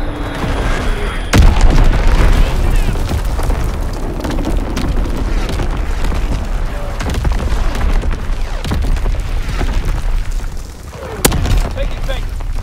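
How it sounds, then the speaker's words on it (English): Bomb explosions in Call of Duty WWII online multiplayer roll as a loud, sustained rumble, with heavy sharp blasts near the start and again near the end over dense battlefield noise. "Bomb incoming. Get to cover."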